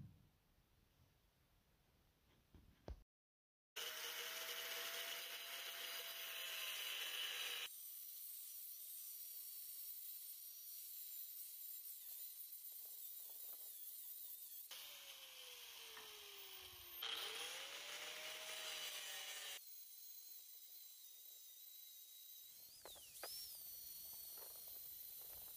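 Grinding and cleanup on an aluminum casting: a high, hissing whine of a grinder in long sustained passes, pausing and restarting, with pitch dips as the tool loads against the metal, fairly quiet overall.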